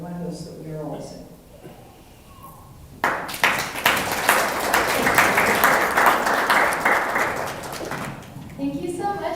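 A live-streamed community event audience breaks into applause for a group of panelists, dense clapping swelling suddenly after talk and holding steady for several seconds before easing as the room settles.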